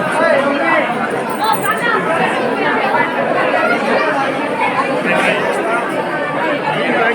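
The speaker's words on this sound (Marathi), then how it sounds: "खूप गर्दी आहे." A dense crowd chatters steadily inside a busy temple at Saptashrungi Gad, many overlapping voices close and loud with no pauses throughout.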